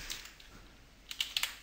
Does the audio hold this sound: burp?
no